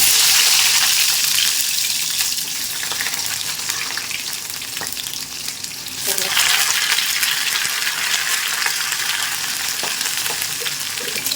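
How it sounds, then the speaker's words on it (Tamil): Steady crackling sizzle of spices hitting hot sesame oil, loud and close, rising to a sharper burst midway, then settling into continuous frying. "தாளிக்க போகிறோம்"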